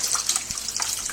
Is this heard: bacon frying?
no